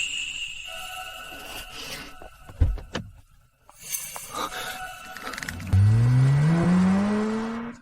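A car engine rises and revs as the vehicle pulls away, a rising drone building loud and close after a brief door thud, with no one talking.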